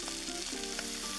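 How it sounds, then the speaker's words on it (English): Scallops sear in a hot pan with a steady, close frying sizzle that crackles for about a second, with faint background tones underneath. "Scallops searing."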